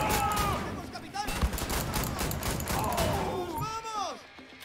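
Loud bursts of weapon fire from Wolfenstein: The New Order, heavy repeated shots and impacts running through most of the stretch, then trailing off near the end under a faint voice.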